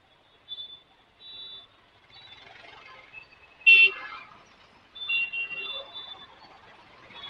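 Mumbai road traffic with car horns honking: short tonal honks from passing vehicles, one louder close blast in the middle, amid faint street noise with no clear speech.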